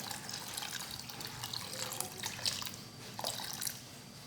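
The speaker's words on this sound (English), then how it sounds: "we will be putting in clean water." Clean water pours into a cooking pot holding washed granite, a soft continuous splashing and trickling, close but fairly quiet with no talk.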